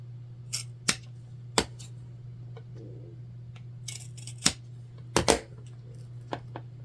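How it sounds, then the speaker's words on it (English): Scissors snipping the corners of fabric for a sewn bag, several sharp separate close cuts over a low steady hum, no talking. "we're gonna snip all 4 corners"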